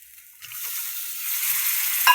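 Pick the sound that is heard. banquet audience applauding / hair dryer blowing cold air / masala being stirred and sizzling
masala being stirred and sizzling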